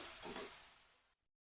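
Malabar spinach fruits sizzle and hiss in hot oil while being stirred, a short steady frying burst that fades out quickly, with no talking.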